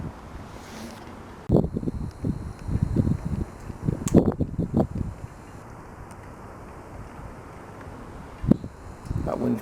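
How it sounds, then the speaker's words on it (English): Hard wind blows outdoors, buffeting the microphone in uneven rumbling gusts that rise and fall over several seconds. "That wind's blowing hard."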